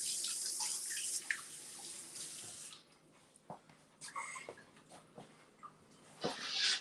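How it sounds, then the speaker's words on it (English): Tap water runs into a sink as fingers are rinsed, a hissing flow for a couple of seconds followed by scattered splashes and drips, faint and close. "Rinse my fingers off."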